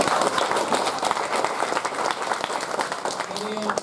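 Applause from an audience at a Philippine National Police Maritime Group change-of-command ceremony, a dense, steady wash of many hands clapping throughout, close and loud, with a faint voice emerging near the end.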